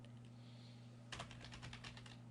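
Quick bursts of typing on a computer keyboard: a rapid run of clicky keystrokes starts partway through after a quiet hum, close and moderately loud.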